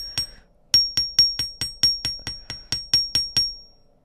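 Small hammer gently tapping metal jewelry wire loops for a crystal necklace, about a dozen light, evenly spaced metallic taps with a bright ring, close and alone.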